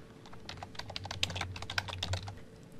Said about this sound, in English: and we enter a name